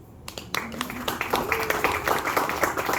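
An audience at a book presentation in Aruba breaks into applause, many hands clapping that build from a quiet start into a dense, steady patter, with a faint voice beneath.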